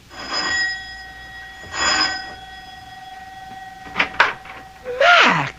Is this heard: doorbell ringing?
yes